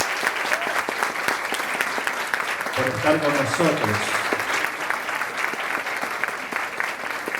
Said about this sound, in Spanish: A pedir un fuerte aplauso para Agustina.